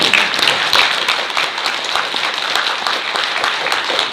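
Sustained crowd applause fills a large auditorium at a political debate forum in a National Assembly Library hall, steady and dense with individual claps audible throughout.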